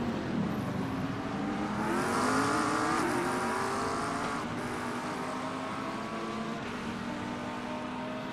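GT3 race car in a racing video game at Sebring, its engine droning and shifting pitch steadily throughout at close range, no talk over it.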